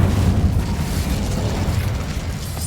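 An Incendio fire spell blast cast in Hogwarts Legacy, a loud, rumbling burst of flame that roars steadily and then slowly fades over a couple of seconds, with no talking.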